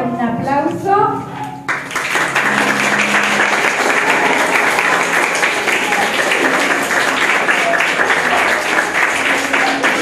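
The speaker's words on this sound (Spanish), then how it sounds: "ahora la vamos a recibir a ella con un aplauso." A speaker's voice briefly, then loud, sustained applause and clapping erupts from a group welcoming a teacher on her last day, dense and steady for several seconds, close and full.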